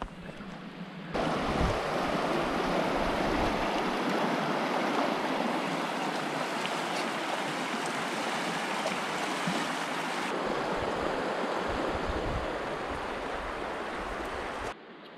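A river rushes steadily at a hiking trail crossing in the Orongorongo Valley, a broad continuous roar of flowing water heard close up with some wind buffeting the microphone.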